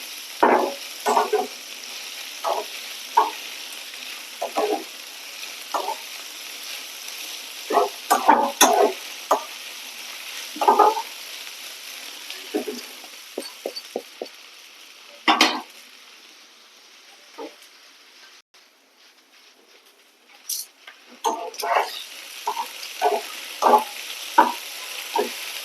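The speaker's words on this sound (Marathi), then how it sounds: "आता हे छान मी याच्यामध्ये परतवून घेणार आहे." A ground paste of green chili, ginger and garlic is stir-fried in a pan: bursts of sizzle and scraping stirring come in irregular clusters, with a quieter lull partway through.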